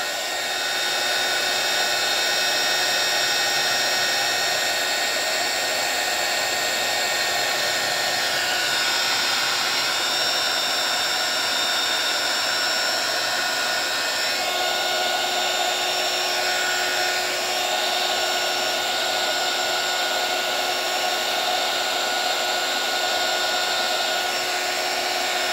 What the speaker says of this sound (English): And here I'm using a heat tool.